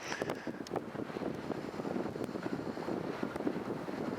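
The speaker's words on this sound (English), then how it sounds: "there's gonna be a little bit of wind" Outdoor wind buffeting the microphone near willows and a fence, a continuous low rumbling gusty roar, fairly faint and steady, with no voices.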